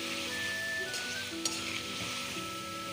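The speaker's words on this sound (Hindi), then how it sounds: "अब इसमें अदरक लहसुन का पेस्ट डाल रही हूँ।" Chicken fries in a pan with ginger garlic paste and is stirred, giving a quiet, steady sizzle with a couple of light utensil clinks and scrapes, under faint background tones and no voices.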